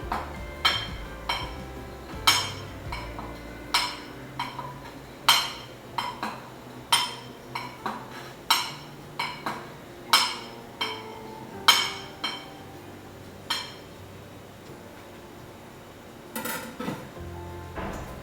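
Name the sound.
knife cutting through brown sugar ice jelly (bingfen) in a dish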